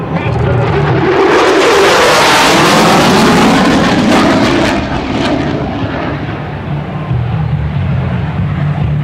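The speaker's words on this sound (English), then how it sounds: "F-16 Fighting Falcon, one of the premier fighter jets in all the world" An F-16 Fighting Falcon fighter jet flies past at an airshow: a loud, roaring jet engine that peaks early, then fades into a distant rumble, with an announcer speaking over it.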